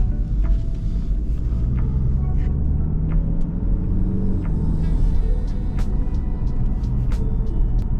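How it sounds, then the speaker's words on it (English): A 2019 BMW 520d Touring M-Sport xDrive G31 with a 2.0-litre inline-four diesel of 190 hp, driving with a steady low engine drone and road rumble, light clicks and ticks over the top, no talking. "Let's take the 520d for a drive."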